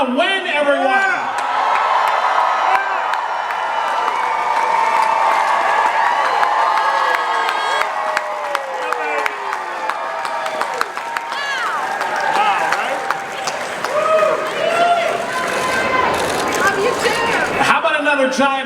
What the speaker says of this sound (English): Give it up for Ming-Na Wen, everyone!